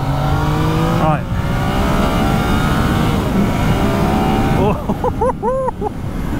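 A 2019 Yamaha MT-09 SP motorcycle engine revs up and accelerates with rising whine, then a few sharp throttle blips near the end, loud and close.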